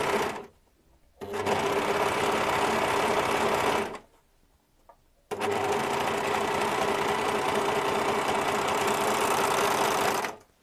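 Juki MO-50eN serger stitching a rolled hem, running in two bursts of steady rapid whirring and clatter of about three and five seconds, with a brief quiet pause between them, close and fairly loud.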